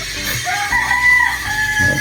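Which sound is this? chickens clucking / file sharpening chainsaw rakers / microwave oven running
chickens clucking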